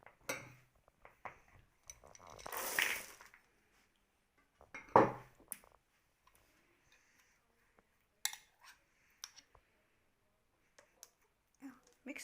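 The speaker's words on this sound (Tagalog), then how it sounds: "You can mix all the ingredients together." Utensils clink and scrape against a bowl while cookie ingredients are mixed, with sparse, irregular taps and a couple of louder scraping bursts amid long quiet gaps, close and fairly soft.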